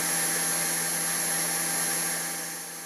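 A Buture Pro BP10 cordless stick vacuum running steadily at its first suction level, giving a constant airy whoosh with a high motor whine. It stays loud and close, easing off slightly at the end.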